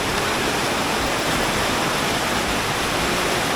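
A waterfall with a strong flow at a hidden spot, roaring as a steady, loud broadband rush of water that fills the whole clip without a break.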